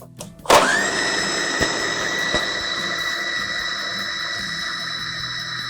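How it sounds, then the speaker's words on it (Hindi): A kitchen blender whirs into a steady, loud, high-pitched drone as it blends a drink with ice, starting abruptly and running continuously with no talk over it. "हाफ ड्रिंक ऐड करके मैं इसको ब्लेंड कर रही हूँ।"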